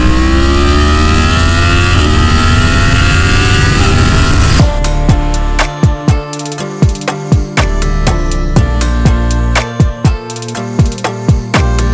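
A Yamaha MT-10 1000cc motorcycle gives a loud, close, sustained engine note that drops into a run of sharp repeated pops and revs, each burst rising and then cutting off.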